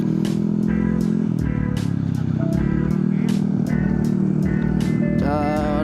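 A motorcycle passes on a winding mountain road near Pangalengan, its engine drone blending with the steady rumble of the car in which the recording is made, with a brief horn-like tonal burst near the end.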